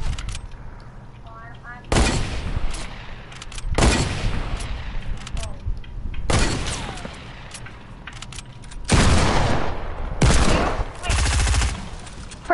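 Submachine gun fire in a video game comes in several loud, rapid bursts separated by short pauses, with casual voices chatting in the gaps.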